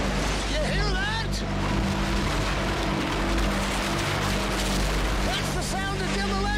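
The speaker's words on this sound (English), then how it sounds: "That's the sound of demolition." Heavy machinery tears down a house, a continuous low engine rumble and grinding noise throughout, with excited voices talking over it.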